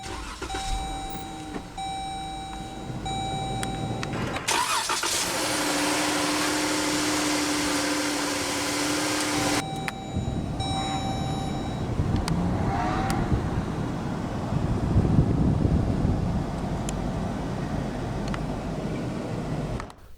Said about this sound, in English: let's go ahead and start the engine, and along with smart key, it does have push-button ignition